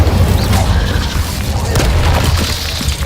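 Incendio fire spell cast in Hogwarts Legacy, a loud rumbling burst of booms and crackling fire-like blasts over heavy low-end combat noise, continuous and close.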